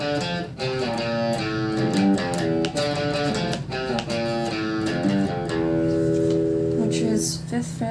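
A guitar plays the melody of a song. The tone is slightly distorted, with clear, close notes ringing over a full, continuous backing.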